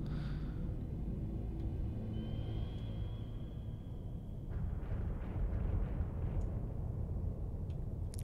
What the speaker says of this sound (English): Oh, we just dropped some depth bombs,